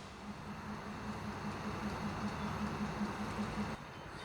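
A Wellington tram runs on rails with a steady low rumble and an evenly spaced clacking rhythm of wheels over rail joints, moderately close, before the sound drops away abruptly near the end.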